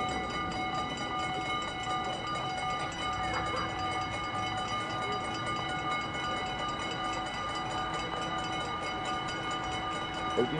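A steady, continuous rumble of a train rolling past nearby at a level crossing, with a constant mechanical drone and faint rail noise throughout, no voices.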